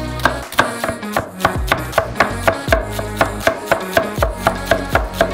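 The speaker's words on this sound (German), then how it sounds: "Wir schälen die Schalotten und hacken sie sehr fein." Peeled shallots are finely chopped with a knife on a board, a quick even series of crisp knocks and slices repeating steadily and close by.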